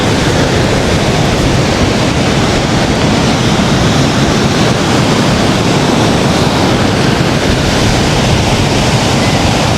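High-tide waves washing onto a shore at night, a steady, loud, continuous roar of surf with wind noise on the microphone and no talking.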